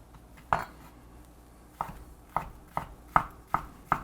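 A knife cuts a pineapple into cubes on a cutting board, with seven sharp knocks falling at uneven intervals and little else between them, close and clear.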